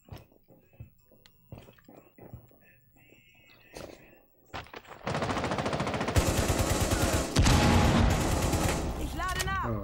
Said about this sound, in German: Die schießen da das Fenster durch.